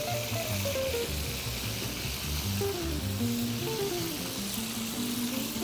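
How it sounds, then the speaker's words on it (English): Shrimp sizzle in a hot pan of garlic oil for gambas al ajillo: a dense, steady frying hiss that stays close and even throughout. "So now, what we do is we put the shrimps."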